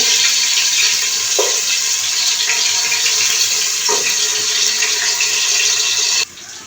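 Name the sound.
ground garlic frying in a pan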